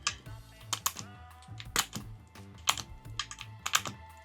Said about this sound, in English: let's remove all keycaps